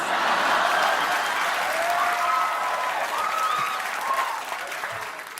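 Classmates applauding, a dense, sustained burst of clapping that stays loud throughout and tapers slightly at the end, with faint voices mixed in.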